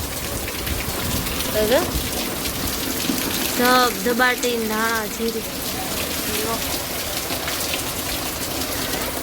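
Steady rain pours down close by, a continuous dense hiss of drops on surfaces, with someone talking over it and another short voice joining briefly.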